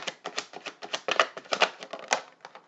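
Tarot cards being shuffled, a quick run of crisp, close riffling clicks and snaps in an uneven rhythm, with no talking.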